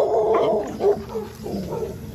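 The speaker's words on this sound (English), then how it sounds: "Here comes the dog. Here comes all of the dogs." Several dogs barking in a neighborhood in Bunnell, Florida, a quick burst of near, overlapping barks over about two seconds.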